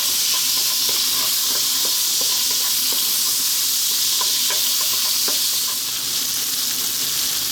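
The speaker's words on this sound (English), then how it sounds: "Let's get that garlic in. Let's get that onion in. Medium heat, about 3 minutes." Garlic and onion sizzle over medium heat in flavoured oil, a loud, steady, close hiss with soft intermittent stirring taps.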